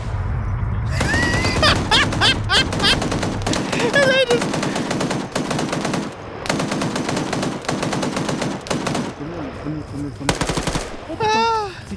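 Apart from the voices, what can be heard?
gunfire, machine guns, from video game match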